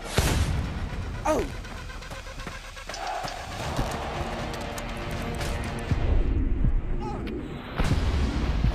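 Fast-firing weapon shots ring out in Blade and Sorcery, a dense run of sharp reports and heavy booms over a continuous rumble, with a voice talking over them.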